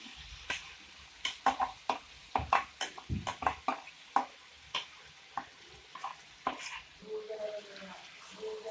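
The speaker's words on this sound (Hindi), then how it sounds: "चिकन डालने के बाद इसको अच्छे तरीके से मिक्स कर लें।" Chicken with masala being stirred in a pan for chicken karela, a series of soft scraping spoon strokes with light sizzling underneath, quiet and close, irregular rhythm.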